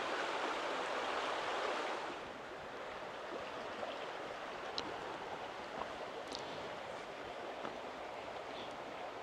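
A stream in Wales rushes steadily in a broad hiss, a bit louder at first, then settling to a constant babble with occasional faint splashes.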